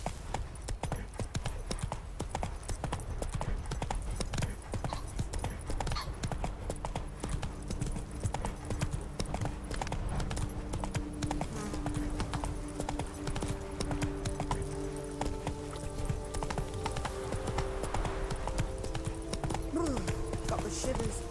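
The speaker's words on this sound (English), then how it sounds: "Run, Roach." A horse gallops in The Witcher 3 video game, a fast steady clip-clop of hooves running continuously and close, with in-game background sound and a rising tonal music or ambience toward the end.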